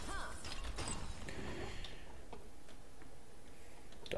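A door in the video game Gauntlet opens with a key, giving a run of mechanical clicks, ticks and creaks like turning gears, moderately loud with no voices.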